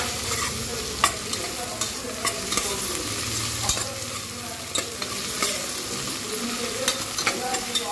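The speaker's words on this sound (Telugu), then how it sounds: "కొత్తిమీర, పుదీనా ఫ్రై అయిపోయింది." Chopped coriander and mint fry in oil in a pan, giving a soft continuous sizzle with frequent scraping and clicking stirs, for a vegetable biryani with double beans.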